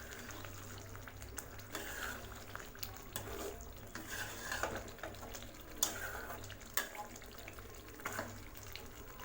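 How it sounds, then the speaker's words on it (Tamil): Masala egg gravy being stirred in a pan over a low flame: faint, soft sizzling with irregular scraping strokes and a few light clinks. "இதை ஒரு டைம் நல்லா கிளறி விட்டுக்கலாம்"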